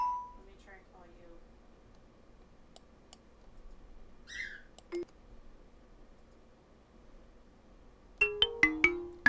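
Scattered faint clicks and short electronic chirps give way to a quick, repeating run of bright ringtone beeps near the end, sounding over a quiet room tone during a live stream.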